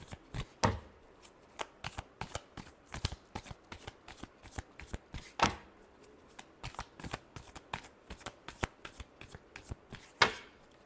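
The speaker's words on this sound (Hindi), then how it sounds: "last shuffle" A deck of cards is shuffled by hand in a quiet room, with repeated close riffling bursts and sharp taps in an irregular rhythm over about eleven seconds.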